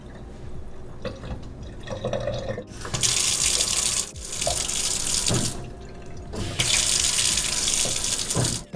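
Water runs from a matte black kitchen faucet in two strong, close bursts, each lasting a few seconds with a short gap between, after a quieter stretch of handling noises and light splashing at the sink.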